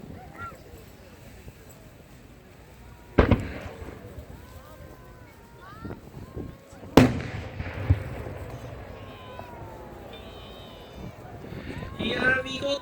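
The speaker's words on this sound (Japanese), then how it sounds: "次に打ち上げる花火玉は信長花火工業青八方。 青く光る星が四方八方に飛び散る美しい花火です。" Blue-star 'Ao Happou' shells from Nobunaga Fireworks burst at the Miyazaki Seaside art fireworks display, two loud booming reports several seconds apart with crackling afterward, beneath an announcer talking and distant crowd ambience.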